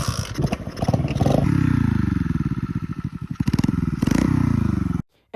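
A Chinese chopper motorcycle converted into a dirt bike, its small engine running loud and close with a rapid putter, revving up and down across the run before cutting off abruptly.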